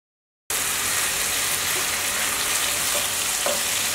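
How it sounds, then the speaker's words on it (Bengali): Spice paste for achari eggplant sautés in oil with a loud, dense, continuous sizzle close up. It starts abruptly after a brief silence and has a few faint stirring knocks, with no talking. "মশলাটা ভালোভাবে কষিয়ে নিলেই আচারি বেগুনের টেস্টটা ভালো আসবে।"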